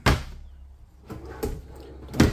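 A few wooden knocks and thuds, one sharp at the start and two more later, like a non-soft-close cabinet drawer being pushed shut nearby in a fifth wheel RV.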